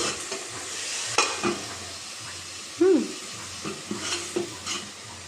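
Greens stirred and cooked in a pan, soft sizzling under intermittent scraping and clinking of a utensil against the pan, with a brief sharp squeak midway.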